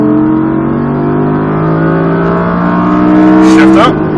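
An Audi R8 V10+ accelerating hard on a race track, its engine a loud, steady rising drone heard from inside the car, with an instructor's voice talking over it.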